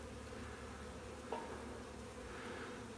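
A faint, steady hum of many honeybees buzzing together in a hive, close by, with a brief light knock partway through.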